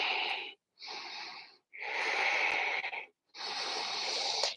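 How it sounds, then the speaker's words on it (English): Ujjayi breathing during a yoga practice, four long, hissing, throaty breaths close to the microphone, each separated by a brief silence. "5 deep breaths. Ujjayi breaths."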